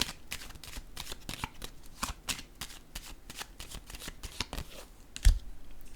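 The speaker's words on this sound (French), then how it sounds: "je vais déposer une carte sur la tempérance à l'envers" Tarot cards are handled and laid down on a table in a series of quick, crisp flicks and taps, fairly close and light, ending with a soft thump as a card settles.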